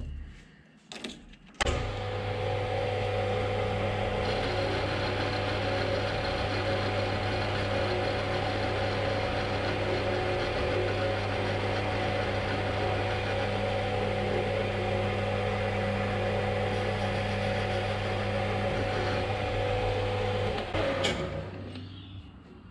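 A slitting saw arbor turns on a machine during a light spring pass, a steady mechanical hum with tonal whine held for about twenty seconds, with a click at the start and the motor winding down at the end.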